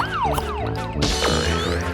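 A police siren wails in rising and falling sweeps, loud and close, then shifts into a faster, higher yelping pattern.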